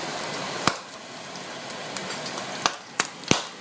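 Eggs fry in a hot pan, a steady soft sizzle broken by a few sharp, scattered pops from the oil, close and fairly quiet with no talking.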